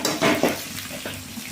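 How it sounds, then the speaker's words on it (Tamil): Onions being sautéed in a pan for an egg stir-fry, with a couple of short bursts of sizzling and stirring scrapes early on, then a softer, steady sizzle without talk. "ரெண்டையும் ஒரு வதக்குறோம். வதக்கிட்டோமா? நல்லா வதக்கணும், வேகணும் வெங்காயம்."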